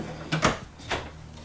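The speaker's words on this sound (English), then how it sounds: "Below your oven, you do have a drawer." A drawer beneath the oven in a 2023 Venture RV SportTrek travel trailer slides and knocks, giving two quick close thuds about half a second apart. A quieter knock follows against a low steady hum.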